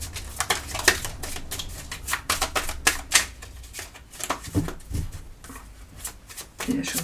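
Tarot cards shuffled by hand during a card reading, a quick run of soft papery riffles and flicks with irregular rhythm, close and fairly quiet, with occasional talk over it.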